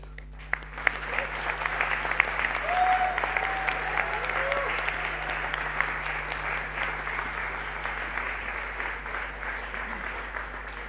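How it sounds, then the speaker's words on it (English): Audience applause at the Wikimania 2025 opening ceremony in Nairobi as people leave the stage, a dense, sustained wash of clapping from a large hall over a low steady hum, continuing evenly throughout. "please give them a round of applause as they exit the stage"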